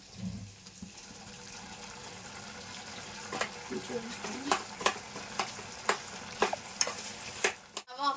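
A bottle gourd and spinach curry is stirred in a pan with a faint background sizzle, then a series of sharp, rhythmic scrapes and taps from the spoon grows louder toward the end.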